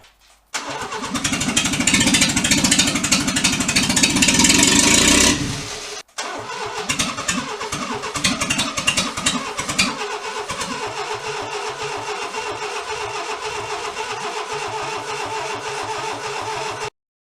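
A 1982 Renault Trafic engine, fed brake cleaner, cranks and catches loudly at close range, roars briefly, then cuts out before restarting into a rough, uneven idle with irregular chugging pulses.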